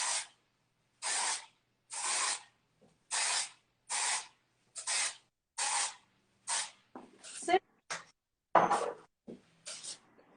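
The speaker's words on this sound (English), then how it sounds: "a bit of texturizing spray throughout the layers underneath" Texturizing hair spray is applied to the underlayers of a half-up textured style in a series of about a dozen short, close, evenly paced aerosol bursts, with quieter handling sounds between them.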